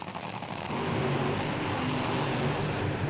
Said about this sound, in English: You're going to need them because these cars are very loud.